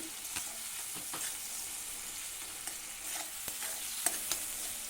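Tomatoes fry in a pan with a steady broadband sizzle while a utensil stirs them, giving occasional scraping clicks; no voices.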